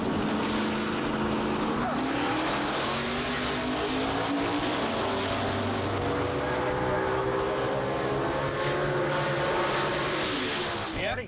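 A 1969 Opel GT drag car fitted with a small-block Chevrolet engine roars loudly at a drag strip, sustained engine howl with rising revs, while people talk over it.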